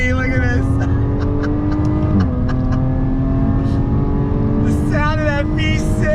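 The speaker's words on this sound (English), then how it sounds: "The sound of that V6." Supercharged V6 of a 2021 Jaguar F-Type R-Dynamic sports car accelerating hard with the top up, a loud, steady engine roar rising through the revs, heard from inside the cabin with brief upshift breaks.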